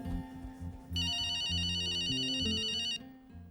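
A mobile phone ringtone rings loudly and steadily for about two seconds in an Indian TV drama household scene, a bright repeating electronic melody laid over background music.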